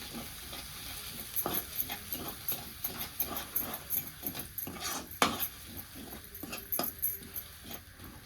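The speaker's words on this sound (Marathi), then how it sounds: "एक चमचा काळं तिखट आहे आणखी थोडंसं टाकते हे सगळं आपल्याला मिक्स करून घ्यायचं" A spoon scrapes and clinks in a bowl as chutney, red chili powder and spices are mixed for an eggplant curry, in soft, steady, rhythmic strokes.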